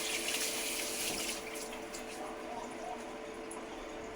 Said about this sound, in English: I'm gonna wash my hands really quick and rinse them